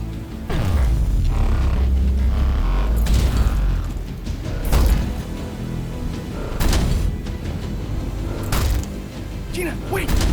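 An Eon gun fires in an animated sci-fi short: a run of heavy booming blasts and mechanical clanks at uneven intervals, loud and close, mixed with voices and score.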